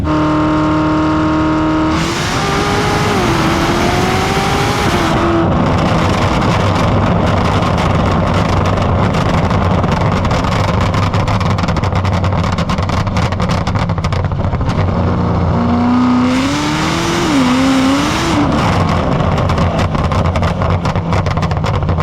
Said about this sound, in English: So if you don't want the burbles and everything, you can just set it back to a more calm sensation